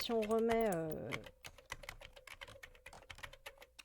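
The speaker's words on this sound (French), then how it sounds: "le bruit des tapotages sur le clavier de la part de nos employés" Rapid keyboard tapping clicks away steadily, close and fairly soft, after a brief tonal electronic sound at the start; in-game office typing sounds from the video game Start Up Company.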